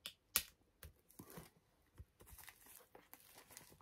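Packaging of a music box set being cut open by hand: quiet, close crinkles, a sharp tearing snap near the start and scattered light rustles and scrapes of plastic blister and cardboard.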